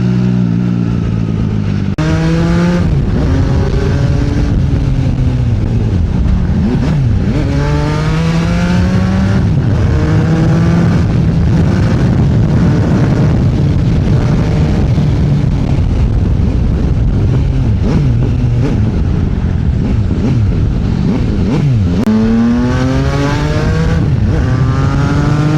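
An MV Agusta Turismo Veloce R motorcycle accelerates hard through repeated rising engine sweeps and gear changes, loud and close with steady wind rush over the microphone.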